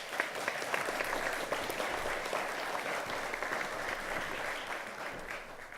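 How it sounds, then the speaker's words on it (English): Audience applause fills a discussion event, a steady dense clapping from a crowd that holds for about six seconds at moderate level with no talk over it. "Give them an applause."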